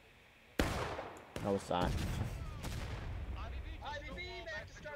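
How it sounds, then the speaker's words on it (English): Artillery fire in a Civil War battle game at Burnside's Bridge, with a sudden loud boom followed by rumbling blasts and scattered gunfire, while someone talks over it. "I think that was Union artillery."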